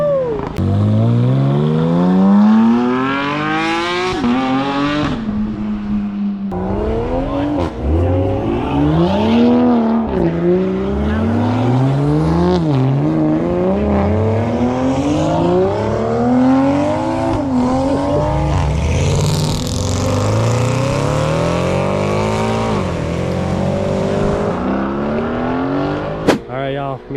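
A modified car at a cars and coffee meet revs hard and accelerates away in repeated rising engine pulls with brief tire squeal, loud and close, while onlookers cheer and shout over it.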